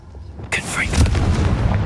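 A Confringo fire spell in Hogwarts Legacy goes off after a brief quiet lead-in, a loud, close explosive burst that rolls into a deep, sustained boom.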